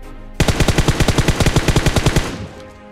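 A long burst of automatic gunfire in the PUBG Mobile video game, a rapid even string of about twenty loud close shots lasting roughly two seconds, then a short fading tail.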